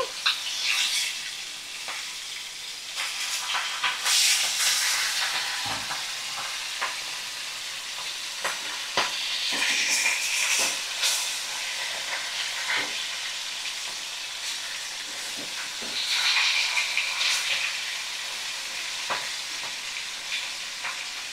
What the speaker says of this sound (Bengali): আমি উল্টা পাল্টে আর এক সাইডটা ভালো করে ভাজা করে নিচ্ছি